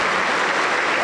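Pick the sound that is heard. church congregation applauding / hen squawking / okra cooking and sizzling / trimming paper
church congregation applauding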